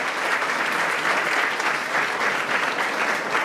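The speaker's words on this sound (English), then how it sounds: "Please give them a big round of applause." An audience at a third grade school choral concert claps steadily for the teachers, a dense, sustained wash of many hands that stays loud and even throughout with no one speaking.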